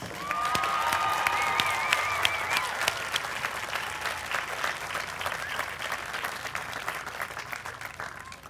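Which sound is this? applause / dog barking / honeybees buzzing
applause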